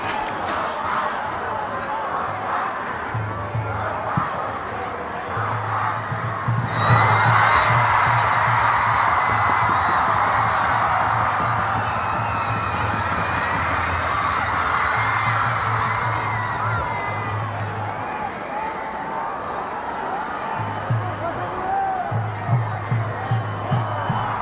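A stadium crowd roars and whoops at a Bhutan vs Sri Lanka World Cup qualifier football match, swelling loudly midway and then settling into a steady din, with a commentator speaking over it.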